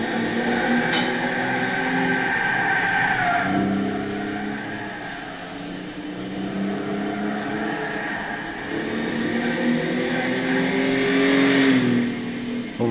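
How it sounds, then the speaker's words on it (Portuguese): A Buick GNX with a 3.8-litre turbocharged V6, driven in Gran Turismo 6 on a simulated track, revs loudly and steadily, its engine note rising and falling through several long pulls with no talking. "O V6 Turbo ronca bem, hein?"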